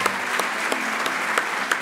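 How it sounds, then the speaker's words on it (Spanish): A crowd applauds steadily, a dense wash of clapping with a few louder individual claps standing out. "Les pido, antes que nada, un gran aplauso para Esteban"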